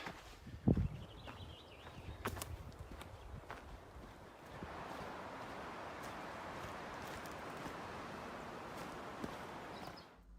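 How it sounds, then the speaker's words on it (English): Wind moving through pine trees along Section A of the Pacific Crest Trail: a few footsteps and rustles first, then a soft, steady, faint rushing that carries on to the end. "Getting into the beautiful pine trees now, which Just love it. You can hear the wind going through them."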